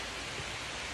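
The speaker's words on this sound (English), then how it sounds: "This rain's gonna get pretty rough" Rain pours steadily over a wooded area by a tree stand, a continuous broadband hiss with no distinct drops or voices.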